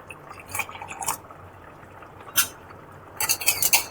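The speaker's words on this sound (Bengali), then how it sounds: "আর দেবো একটু জল।" Water poured into a bottle gourd curry with sour yogurt, heard as a few short splashing bursts with quiet gaps between them, ending in a denser run of trickling splashes.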